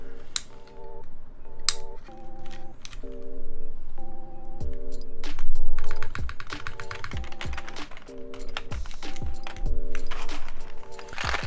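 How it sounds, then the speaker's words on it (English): Mechanical keyboard keys clack in quick irregular bursts on a 65% keyboard build, close and fairly loud, with sharp individual key strikes and a few heavier bottoming taps. "I want to also see what it sounds like with a different switch like MX Blacks"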